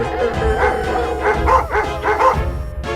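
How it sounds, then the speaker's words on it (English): Several dogs barking and yipping in quick, irregular bursts, a lively cluster of barks with whimpering tones, fairly close and clear rather than distant. "Suddenly, some dogs barked in the distance"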